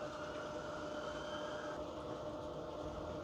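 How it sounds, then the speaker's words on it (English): A Roco model train runs on a layout track, giving a steady low rumble and hum that holds even throughout without breaks and with no talking. "I should have a train coming back in soon"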